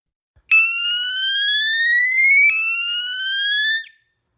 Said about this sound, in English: Those are our fire alarm sirens from Lightak Electronics, Taiwan.